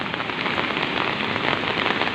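Heavy rain pouring down during a flood, a dense steady hiss of drops drumming on surfaces, close and loud throughout with no voices.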